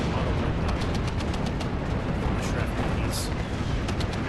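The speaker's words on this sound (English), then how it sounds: "And we got radio coverage on everything, so get some artillery." Dense artillery bombardment in Steel Division 2 during a forest battle at Tannenberg, a rapid run of loud booming impacts and crackling gunfire with no letup, under a voice talking.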